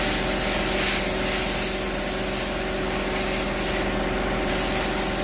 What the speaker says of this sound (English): Brent's blowing out an air cleaner.